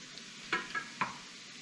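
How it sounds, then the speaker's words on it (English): A spoon scraping around a pot as flour is stirred into a cheese sauce, three short scrapes against a faint background, quiet and close. "you wanna just keep stirring"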